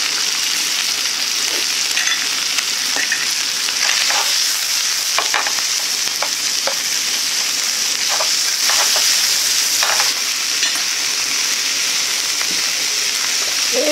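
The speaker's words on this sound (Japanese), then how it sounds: "ベーコン炒めてね、香ばしさが出てきたところで、はい、キャベツ投入します。 はい。 はい、同時にね、もうツナ缶も全部入れちゃいます。" Bacon, cabbage and canned tuna stir-fry in a pan, a loud steady sizzle running throughout with occasional scraping stir sounds, close up and without talk.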